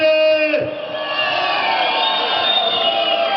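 A crowd at a town day festival in Khust responds with applause and cheering, a sustained, loud swell of voices and clapping that rises just after a brief sustained tone and carries on evenly.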